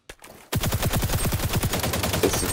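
Rapid automatic gunfire on the practice zone firing range of the video game XDefiant, a single close, loud burst of evenly spaced shots starting after a brief silence and running to the end.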